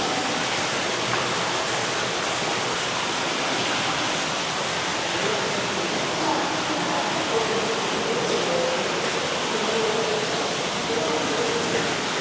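Water rushes and splashes in a man-made cave beside a boardwalk, a loud, steady broadband roar like a waterfall that holds even throughout, with faint voices in the background.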